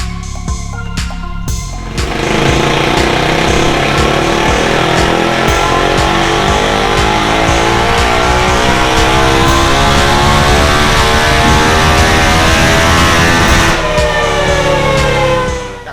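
A Kawasaki KLX 250 motorcycle engine fitted with a direct coil revs hard on a dyno, quickly climbing to a loud, sustained high-rpm wail with rising pitch for about twelve seconds, then dropping off, with no talking.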